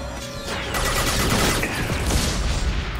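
Sustained gunfire from Mass Effect 2 during an escape sequence: a dense volley of rapid shots and crashing impacts that swells after a quieter start and stays loud and continuous to the end.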